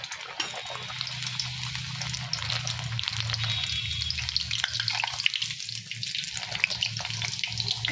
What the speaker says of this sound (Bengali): দেখো বন্ধুরা, আমার পেঁয়াজের কচুরি ভাজা হচ্ছে।